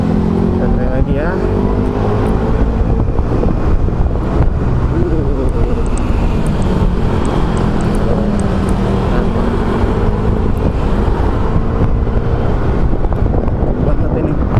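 An Alva One electric motorcycle speeds along a toll road, steady loud wind rush and road roar buffeting the microphone throughout, with a rider's voice talking over it.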